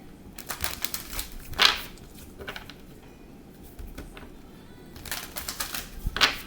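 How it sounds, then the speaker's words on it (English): Bursts of rapid papery riffling as a deck of cards is shuffled, two main flurries separated by quieter handling. "Alright, so now I guess I gotta shuffle."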